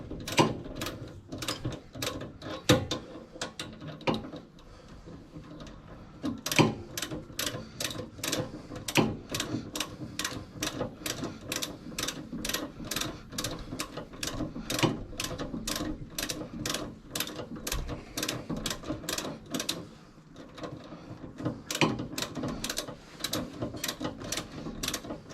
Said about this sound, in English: Start by untightening the end links.